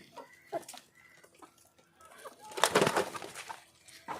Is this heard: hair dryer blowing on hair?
no